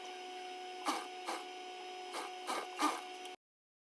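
Sewing machine stitching a plain instant hijab, heard as several short mechanical bursts of running stitches at an irregular rhythm over a steady motor hum, close and moderately loud.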